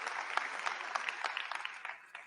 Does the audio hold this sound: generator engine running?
no